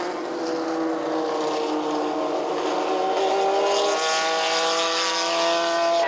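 Several Can-Am race cars whine past at high pitch at Mosport Park in 1984, their tones shifting as they brake hard, downshift into a slow right-hand turn and rev up again, loud and continuous.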